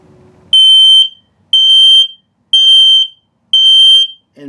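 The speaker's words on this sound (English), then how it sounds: "Now with the low battery alarm." An RV LP and carbon monoxide detector in a 2022 Flagstaff Micro Lite 25BRDS sounds its low battery alarm: four loud, piercing high beeps, each about half a second long, evenly spaced one second apart.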